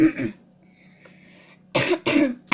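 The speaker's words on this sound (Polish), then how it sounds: "Przepraszam za mój kaszel, ale jestem trochę przeziębiona." A short cough up close, then a quiet pause, then two more harsh coughs in quick succession.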